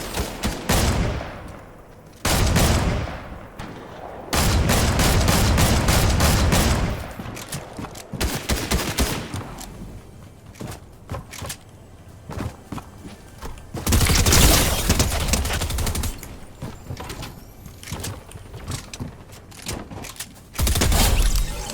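Fortnite gunfire rattles in dense automatic bursts and rapid single shots, loud and close, with short pauses between volleys and a few quieter stretches of distant shooting.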